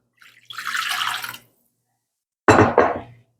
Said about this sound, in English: we're gonna pour in about a cup of beef broth